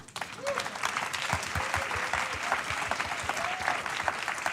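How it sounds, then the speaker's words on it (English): A gala audience at a fulldome festival award ceremony gives the shows a final round of applause, dense clapping building quickly and holding steady, with a few voices calling out. "Why don't we give all of the shows one last round of applause, yeah?"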